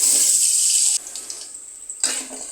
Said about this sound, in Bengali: এখন এর মধ্যে আমি অল্প পানি দিয়ে দিব, যাতে পেঁয়াজটা পুড়ে না যায়